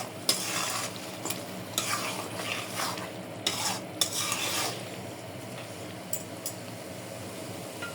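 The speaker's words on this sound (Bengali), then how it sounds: "নাড়াচাড়া করে একটু পানি দিয়ে দেবো হালকা।" A spoon stirs prawn curry with a little tomato in a frying pan over a steady low sizzle, with scraping strokes and light clinks clustered early, then quieter bubbling toward the end.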